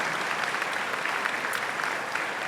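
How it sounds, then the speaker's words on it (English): Steady, dense applause from a large audience at a chamber of commerce annual dinner and awards event, many hands clapping evenly at moderate distance with no voices on top. "If you could give a round of applause and help us thank the Manatee Chamber of Commerce staff."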